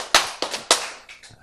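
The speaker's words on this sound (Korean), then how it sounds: "이때는 박수 한번 쳐야 돼." An audience at a sermon gathering claps: a handful of sharp, loud single claps spread over about a second and a half, with quieter ones trailing off.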